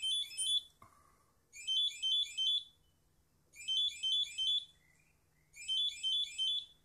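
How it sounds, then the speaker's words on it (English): A DiaDENS T device gives a clear, close electronic beep pattern: four bursts of rapid high-pitched beeps in an even rhythm, separated by short pauses of quiet. "Now that beeping is going on"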